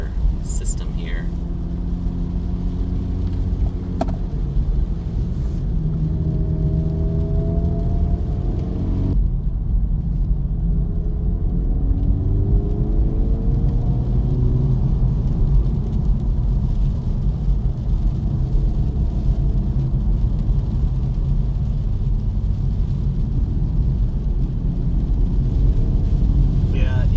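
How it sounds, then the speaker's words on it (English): 2024 Acura Integra Type S driving on a wet, rainy road: steady tire hiss and engine drone run throughout, with someone talking over the road noise. "getting a little bit more rain on the road here"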